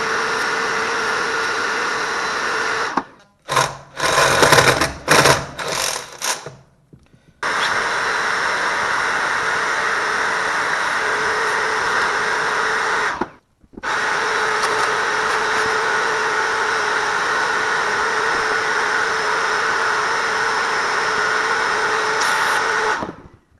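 A vacuum cleaner sucks metal flakes out of a MESA Express amplifier chassis, a loud steady whooshing roar broken by a rattling, cut-off stretch near the start and a brief pause midway, with no talk.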